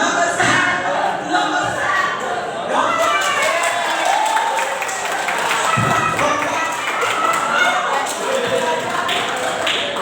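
A village crowd at a community meeting for RW 01 candidates in Sukaharja, Cijeruk, Bogor claps and cheers loudly, with scattered sharp taps and thumps mixed into the steady applause, and voices calling out among the noise.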